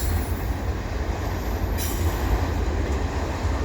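CP mixed freight train rolling past at Dorval, a loud, steady low rumble of railcars with a sustained high metallic wheel squeal, briefly flaring partway through, close and continuous with no talking.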